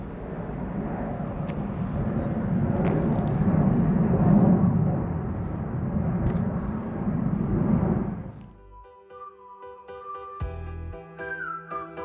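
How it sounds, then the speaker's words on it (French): A broad, steady roar of a plane passing overhead fills most of the clip, then fades out and leaves quieter tonal background sounds. "Oui c'est un avion et ça"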